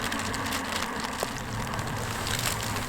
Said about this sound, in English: And by the way, it's raining.